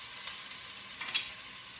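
Ground meat for chili browning in an enameled Dutch oven, a soft steady sizzle with a few faint pops and crackles, alone and fairly quiet.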